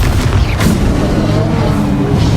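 Bombarda blasting spells explode in the video game Hogwarts Legacy, making loud continuous booming rumbles that overlap into a dense barrage.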